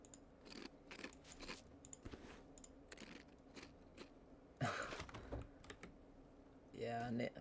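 Computer keyboard typing right next to the microphone, close, quick clattering keystrokes in uneven bursts over faint background sound, with a couple of louder rustling handling noises.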